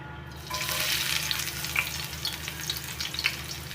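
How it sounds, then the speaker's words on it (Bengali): Steady crackling sizzle of onions frying in hot oil, with a low hum underneath and occasional louder pops, no talking. "তেলটার মধ্যে এখন আমি পেঁয়াজ কুচি দিয়ে দিব।"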